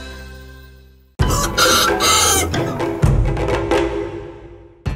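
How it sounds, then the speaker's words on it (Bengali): A Vietnamese Dong Tao dragon chicken crows and clucks loudly and close by, in repeated bursts after a quiet opening, with no talking. "অদ্ভুত দেখতে এই মুরগির নাম ডংতাও বা ড্রাগন চিকেন।"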